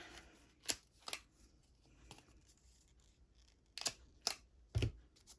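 Scissors snip away the overhanging paper edge on a handmade paper purse, a few sharp cuts spaced out over several seconds with quiet pauses in between.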